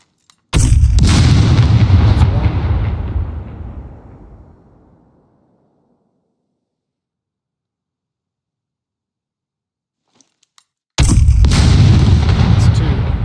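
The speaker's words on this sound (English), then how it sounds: "2 RPG shots that didn't break." Loud RPG rocket blasts hit a turret in the video game SCUM: a heavy booming explosion rolls off over a few seconds into silence, then a second powerful blast erupts near the end.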